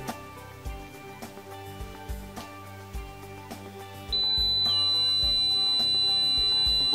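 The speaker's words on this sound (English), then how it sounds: "Both buzzers turn off automatically in 15 seconds, but LEDs and vibrators will stay on." Buzzers on an automated medication kit box and its user tag sound together as a loud, steady high electronic tone that starts partway in and holds over continuous background music.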